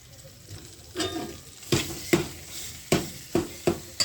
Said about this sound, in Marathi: खवा छान भाजून घ्यायचा